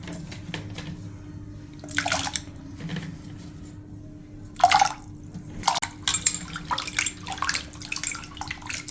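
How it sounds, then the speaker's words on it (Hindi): Carrots are rinsed under a running kitchen tap, with water splashing and dripping in irregular bursts over a steady background flow. Handling noises come and go throughout, and no one speaks. "काफ़ी बार मैंने नल के नीचे तो धो लिया"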